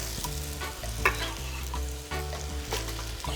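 Potatoes frying in a pot for New England chowder, a steady close sizzle broken by repeated scraping stirs of a utensil against the pot, with no voices.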